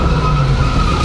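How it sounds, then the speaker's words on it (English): A pickup truck's wheels spin and skid in reverse, straining against debris, with a steady loud engine roar and a sustained tire squeal close by. "The wheels smoked as the truck tried to free itself from the debris."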